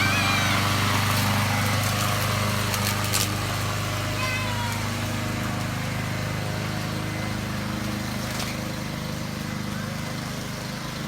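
A Troy-Bilt 21-inch push lawnmower runs steadily and loudly up close for the whole stretch, with a constant engine drone and no talk over it.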